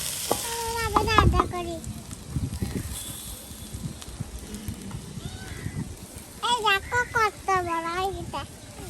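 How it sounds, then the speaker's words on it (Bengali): Rice grains frying in oil and being stirred for beef biryani, a steady sizzle with scraping stirs beneath, while children and adults chatter loudly over it. "এই যে তেলের উপর চালগুলো ভাজে নিতেছি।"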